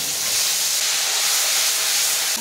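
Tomato paste hits hot oil with whole garam masala and bay leaf while cooking paneer biryani, giving a loud, dense, continuous sizzle that hisses steadily with no pauses and no voices.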